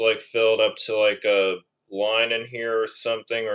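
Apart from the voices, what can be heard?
No everyday noises stand out.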